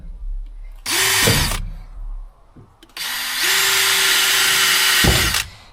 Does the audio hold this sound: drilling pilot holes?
yes